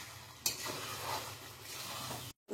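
Chicken kosha with spices and potatoes is stirred and fried in a pan, giving a steady sizzle with scraping stirs and a sharp utensil knock near the start. No voice is heard.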